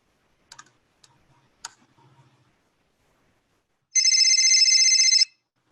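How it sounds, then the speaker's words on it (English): Electronic phone ringing sound effect: after a few faint clicks, a loud, steady trilling ring bursts in alone for about a second and a half, then cuts off. "phone ringing sound effect."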